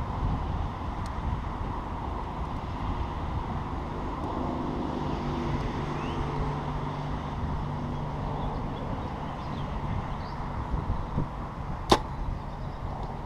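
A single sharp thwack of an arrow striking a target from 80 yards near the end, faint against steady outdoor wind and low rumble.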